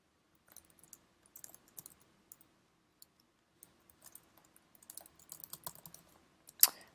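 Computer keyboard typing while writing class code, a method in a constructors exercise: quiet, irregular bursts of light key clicks, sparse at first and quickening into a denser run, ending with one louder key press.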